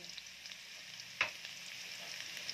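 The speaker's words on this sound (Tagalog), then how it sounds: "Maglagay tayo ng bawang." Garlic for chicken mechado dropped into hot oil, a faint steady sizzle with one sharp crackle partway through.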